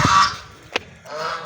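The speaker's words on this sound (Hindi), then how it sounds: "ये देखें जी माशाल्लाह हमारी मुर्गियाँ" Domestic chickens kept in a household coop let out a few short, harsh squawks close by: a burst at the start, a sharp single call midway, then another cackle.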